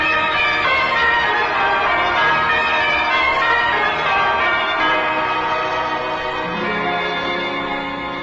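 The new Liberty Bell on an old-time Red Skelton radio show rings out loud and sustained, its resonant tones hanging steadily for the whole stretch with no voices over it.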